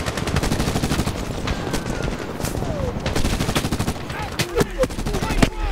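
Sustained machine gun fire in the Medal of Honor 2010 video game, a dense, continuous stream of loud rapid shots with scattered impacts and distant combat noise layered underneath.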